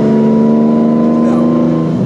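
A Lamborghini Diablo carving through canyon roads on Angeles Crest Highway holds a loud, close engine note in one sustained rev lasting about two seconds, with a voice talking over it.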